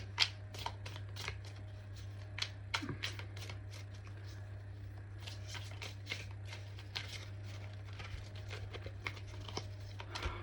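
Tarot-style reading cards being shuffled close up, a steady run of soft riffling, slapping and papery flicks over a low constant hum, with no talking.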